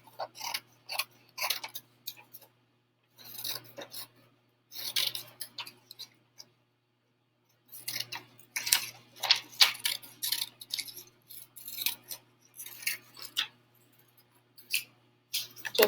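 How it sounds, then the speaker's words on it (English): Scissors cut paper around a printed table. Short bursts of snipping come in several groups, separated by brief pauses, close and fairly quiet. "I'm going to cut all the way around the outside of the table."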